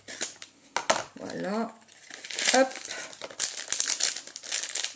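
A plastic-wrapped package of stickers is torn and unwrapped, with loud close crinkling and tearing of the plastic in irregular bursts while someone speaks briefly in French.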